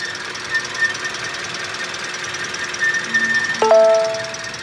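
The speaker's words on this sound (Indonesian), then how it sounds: "mesinnya bunyi lagi." A 2023 Daihatsu Xenia manual car's engine gives off an abnormal rapid, rattling knock that runs steadily throughout. A short electronic beep sounds near the end.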